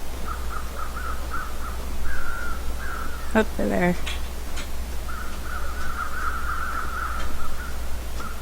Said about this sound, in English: I'm hearing birds, but I don't see them.